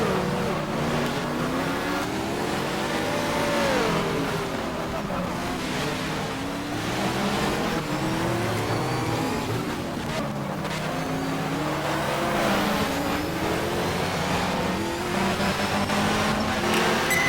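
A Porsche race car engine in the GTR2 racing game at Long Beach, a loud continuous engine roar rising and falling through gear changes, with other cars' engines blended in.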